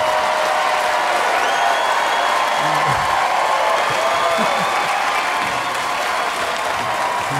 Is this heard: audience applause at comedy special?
yes